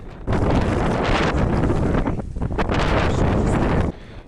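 Strong wind of about 120 km/h on Mont Blanc roars and buffets against the microphone in loud, rough gusts for a few seconds, then cuts off abruptly.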